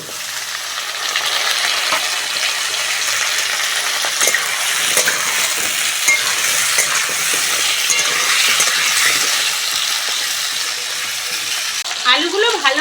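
Cut potatoes fry in a pan while being stirred, giving a steady, loud, close sizzle with scraping and clinks from the spoon throughout.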